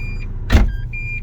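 A Renault Espace 4 door-open warning chime sounds as a steady electronic beeping tone, alongside a short burst of thumping mechanical noise from the car in the middle, close and fairly loud.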